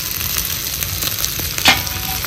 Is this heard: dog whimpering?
no